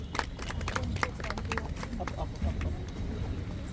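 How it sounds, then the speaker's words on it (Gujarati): A crowd at a YouTube creators meet-up applauds with loose, uneven clapping throughout while people talk and cheer over it. "જોરદાર તાળીઓના ગડગડાટથી આપણે બધા વધાવી લેશું"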